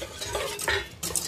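Fruit tart mixture stirred in a saucepan on the heat, a utensil scraping and clinking against the pan in close, steady strokes with a brief pause near the middle, no voices.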